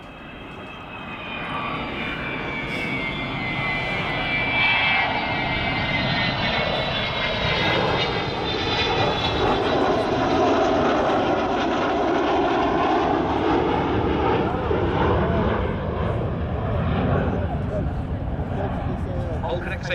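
Avro Vulcan XH558 bomber flying overhead, a loud sustained jet roar with shifting whine that swells and holds steady for the whole stretch, while someone talks over it.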